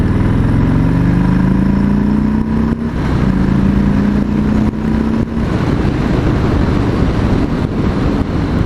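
Toyota Camry engine revving loudly and close, with rising pitch sweeps as it accelerates, then a steady rumble mixed with heavy wind buffeting.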